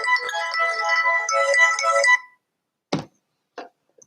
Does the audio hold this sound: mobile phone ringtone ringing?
yes